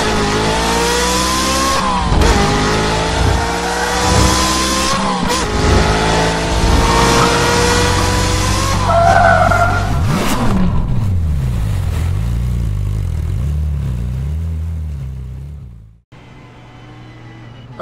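Ferrari 488 GT3 race car in iRacing at Belle Isle, Detroit: a loud close engine revs hard through rising gear pulls with sharp shift breaks, then fades into a lower rumbling idle and a quieter hum, with no talking.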